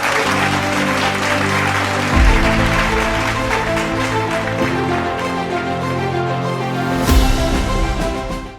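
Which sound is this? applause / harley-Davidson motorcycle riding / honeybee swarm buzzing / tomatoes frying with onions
applause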